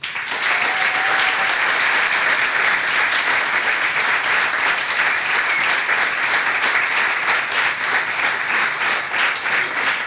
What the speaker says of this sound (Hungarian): Kérek nekik még egy tapsot.